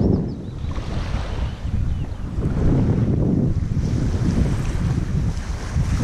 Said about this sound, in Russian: Ветер теплый. Южный.